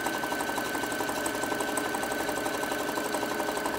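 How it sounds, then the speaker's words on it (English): A sewing machine stitches down a lunch tote bag, a close, steady rapid chatter of the needle running continuously throughout with no voices. "We're going to get this, sew this all the way down."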